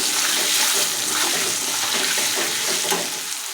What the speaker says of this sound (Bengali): স্বাদ মতো লবণ দিয়ে দিচ্ছি, পরিমাণ মতো হলুদ এই দিয়ে ভালো করে কষিয়ে নিচ্ছি